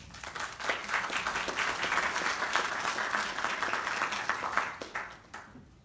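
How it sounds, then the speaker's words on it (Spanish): A room full of people clapping, loud and lively with distinct individual claps, tapering off at the close. "demos un fuerte aplauso para recibirlas"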